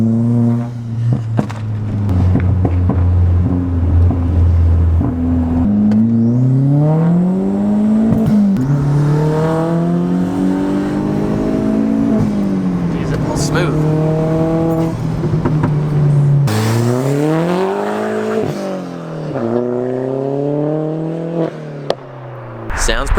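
BMW E36 M3 fitted with a changed exhaust for a deeper tone, revving and pulling through gears with repeated rising engine sweeps and shift dips, loud and close from inside the car, with people talking over it.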